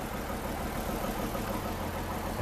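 A Valtra tractor's engine in Farming Simulator 19 runs steadily with a low, even drone, close and unbroken, with no talking over it.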